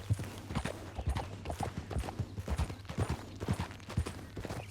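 Horse hooves clip-clop at a steady walking rhythm in the Red Dead Redemption western game, moderately close and clear over a low ambient hum, with no talking.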